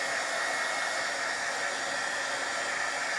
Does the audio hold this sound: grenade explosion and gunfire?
no